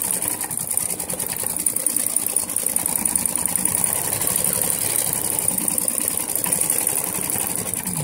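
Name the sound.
Brother XV8500D sewing machine stitching applique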